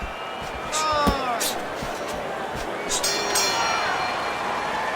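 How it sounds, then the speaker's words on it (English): In a boxing video game, the final bell ends a Pacquiao versus Hopkins fight with a run of quick metallic rings. The rings sound over crowd noise while a commentator talks throughout. "So there's the final bell in a fight nobody thought they'd hear the final bell in."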